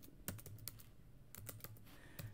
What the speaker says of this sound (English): So I'm going to type in the URL